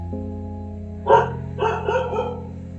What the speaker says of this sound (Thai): บ่ฮู้ว่ามันเห่าหยังมาเห่าคนหรือว่าเห่า